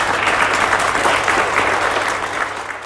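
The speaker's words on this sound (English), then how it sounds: "let's give our K-2 people a little clap" An audience at a primary school presentation day claps for younger award recipients, a brief steady patter of many hands, fairly close and even, with no speech over it.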